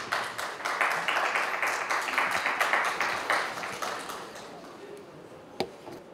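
Audience applause at a charter-signing ceremony welcoming a speaker to the stage, dense rapid clapping that fades over several seconds, followed by a single sharp knock near the end.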